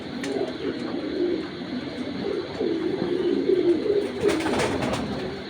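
Grizzle pigeons cooing in a loft, soft repeated throaty coos overlapping close by, with faint chirps in the background.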